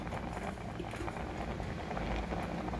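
Gongura dal boils in a pot, a soft continuous bubbling and low rumble, faint and steady throughout with no voices.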